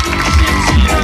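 A crowd of college students applauding and cheering after an MLA's speech, a loud, dense burst of clapping and shouts up close that fills the whole brief moment.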